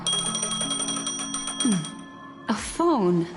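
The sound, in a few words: phone ringing in Honkai Star Rail video game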